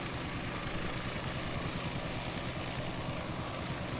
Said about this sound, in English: This is a brand new helicopter to me.